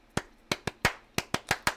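A rhythmic clapping pattern for a school chant, seven sharp, close hand claps in an uneven, syncopated beat, loud and clear with nothing else over them.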